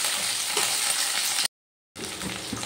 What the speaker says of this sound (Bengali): এবার আমি শিমগুলো একটু ভেজে নেব এইভাবে